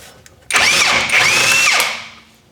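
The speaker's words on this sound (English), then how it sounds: "you need an 18mm socket, and we'll go ahead and spin this nut off." An impact gun or power wrench spins an 18mm socket to loosen a rusted rear shock absorber nut on a Chrysler 200, one loud steady burst of about a second and a half that winds down at the end.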